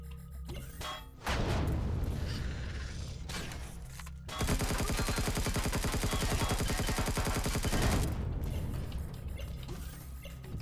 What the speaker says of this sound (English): I'm gonna smoke these guys with the rocket launcher